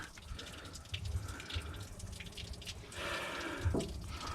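Water runs and splashes while flushing the radiator of a 1974 Dodge W200 with a 318 engine, a faint uneven trickle with gurgles and spattering bursts, rising slightly toward the end.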